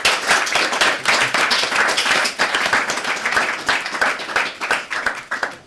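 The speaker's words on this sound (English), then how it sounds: "And just a round of applause." Steady, dense round of applause from an audience at a panel discussion on technology, many hands clapping continuously and fairly loud for several seconds with no talking.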